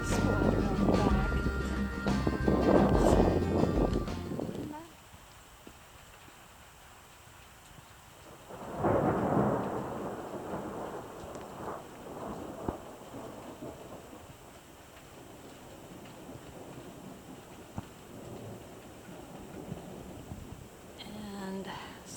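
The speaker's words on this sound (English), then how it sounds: "I could see the storm coming up as I was riding home." A thunderstorm in Edmonton, Alberta: a heavy rumble of thunder rolls loudly at the start and cuts off, then a second crack and rumble follow, with steady rain hissing underneath to the end.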